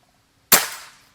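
A single sharp, loud report from a Gorila X2 PCP air rifle with a power plenum, fired during a long-range accuracy test. The crack hits close and clean, then tails off quickly with no voices over it.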